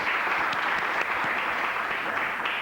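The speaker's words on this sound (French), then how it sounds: "On peut applaudir." Studio audience applause on a French television game show, a short, even burst of clapping at moderate level with no talk over it.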